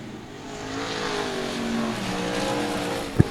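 Race cars on the Cotton Bowl Speedway track roar through the final lap, a steady engine drone that swells slightly mid-run before a sharp thump near the end.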